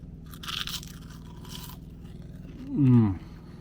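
Someone takes one loud, close bite into a crunchy gluten-free Yorkshire pudding cooked in pork lard. The brittle crunch rises clearly above a quiet background, with a few lighter crackles just before.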